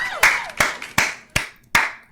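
Sharp hand claps, six in a loose, slightly uneven rhythm, close and loud with brief ringing after each.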